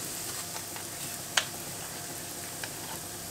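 Turkey stuffing with cream sizzles gently in a pan, a soft steady frying hiss with one sharp utensil tap partway through.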